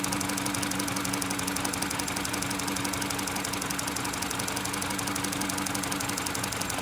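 A car engine idling with a cylinder 2 misfire, a steady close drone with an uneven, knocking pulse running through it, loud and without talk.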